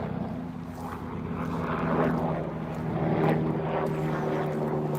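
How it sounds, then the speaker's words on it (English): A helicopter drones overhead, a steady rotor and engine rumble that swells slightly and holds at moderate loudness. "it's a helicopter"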